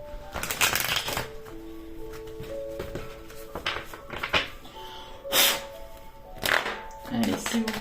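Tarot cards being shuffled by hand, with repeated riffles and soft slaps in irregular bursts, close up, alongside faint background tones and occasional speech.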